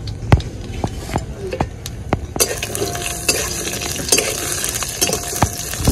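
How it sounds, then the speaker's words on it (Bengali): Bori, broken lentil dumplings, sizzle and crackle in hot mustard oil with bay leaf, dried chilli and cumin seeds. A steady close frying hiss runs under sharp clicks of a spatula stirring against the pan, and no voices are heard. "ওই তেলের মধ্যেই আমি বড়িটা দিয়ে দিব।"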